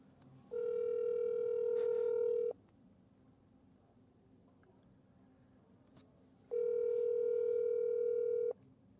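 A phone voice call rings out with a steady electronic ringback tone in two long bursts of about two seconds each, separated by a quiet gap, over faint background hiss.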